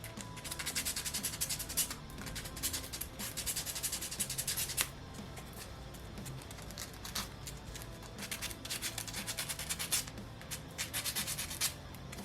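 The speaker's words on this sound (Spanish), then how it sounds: "Está un poco duro, así que vamos a lijar un poco, tanto esta pieza como esta." A plastic 3D Allosaurus model kit piece is sanded by hand with sandpaper in continuous rapid back-and-forth rasping strokes, close and steady with brief pauses, and no talking.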